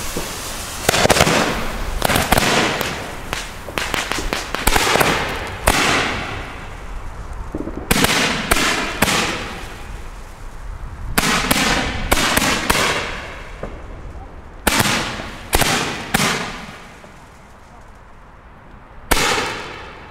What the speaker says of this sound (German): wunderschöne Bockrohre, 30 mm und ein wahnsinnig heftiger, dumpfer Abschuss